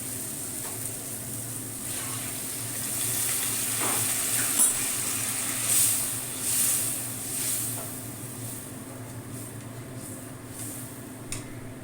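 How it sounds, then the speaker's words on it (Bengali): Hot water is poured into sautéed rice in a pot, giving a soft sizzle that swells into a hissing, bubbling surge midway through, then settles back to a faint simmer. "এবার আমি গরম জলটা দিয়ে দেবো।"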